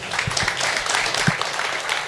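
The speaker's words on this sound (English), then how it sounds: "if you could please provide a round of applause to our excellent panelists" Applause from the audience at a stablecoin panel event, a brief dense patter of clapping with a few sharper individual claps standing out.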